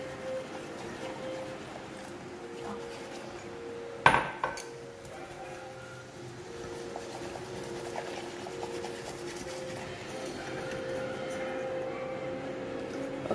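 Chocolate pudding batter is mixed with milk in a bowl, with a steady soft scraping and stirring from a utensil and one sharp clank against the bowl partway through.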